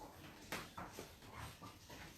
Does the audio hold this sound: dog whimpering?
yes